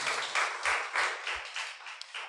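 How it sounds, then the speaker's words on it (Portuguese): A church congregation breaks into applause during a sermon, with broad, dense clapping that swells in uneven waves for a couple of seconds, fairly close and with no voice on top. "Você pode aplaudir o Senhor Jesus nessa noite?"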